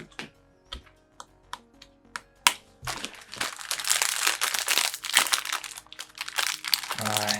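A plastic package of chocolate chip cookies from Turkey is torn open and handled close up, with sharp isolated crinkles at first, then a dense run of loud crackling and rustling that ends abruptly.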